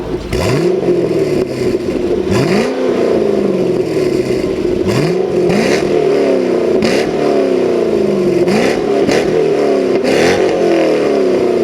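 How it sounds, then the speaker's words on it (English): A high-pitched C6 Corvette V8 with a Corsa sport exhaust revs again and again, each rise sweeping up and falling back, loud and continuous with a raspy exhaust note. "a higher revving V8 sound to your Corvette"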